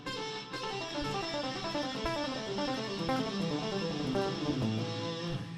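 A guitar runs quickly through a pentatonic scale in rapid sixteenth notes, every note picked, forming a continuous cascade of ascending and descending tones with no talking.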